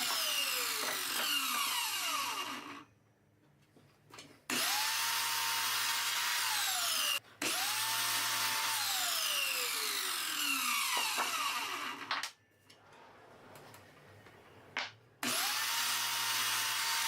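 A power tool, likely a saw, cuts wooden legs for a wine rack to length in repeated loud, sustained bursts, with a descending whine as the motor spins down and short quiet pauses between cuts.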